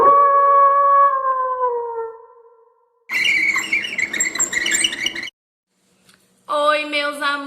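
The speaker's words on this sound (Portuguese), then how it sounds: "Um lobo." A wolf howls in one long, loud, wavering tone that slides downward and fades over about three seconds. A burst of busier, noisier animal sounds follows, then a short high chirping call, all from a children's animal-sounds guessing game.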